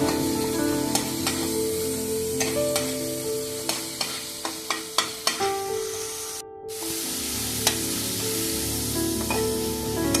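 Onion paste sautés in a pan for chicken biryani, a continuous sizzle punctuated by sharp spatula clicks and scrapes against the pan, with a brief pause partway through before the frying resumes.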